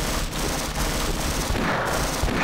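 Half-Life firefight in a station skirmish, a short burst of continuous, loud gunfire packed densely with no pauses and no voices over it.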